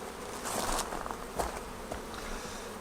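Calm honeybees buzz softly in an opened hive, a continuous close drone with a few brief louder swells as individual bees pass near.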